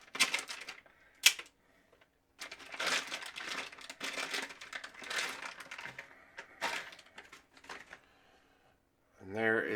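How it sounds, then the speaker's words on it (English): A 3x riflescope magnifier is pulled from a plastic bag, giving several bursts of close crinkling and rustling separated by short pauses. "let's get the magnifier out of the plastic bag"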